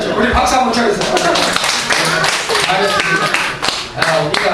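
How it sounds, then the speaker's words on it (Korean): Church congregation clapping during a Thanksgiving service, loud, uneven rounds of claps close by with distinct sharp hits, mixed with voices talking and calling out over it. "우리 박수 한번 쳐주세요."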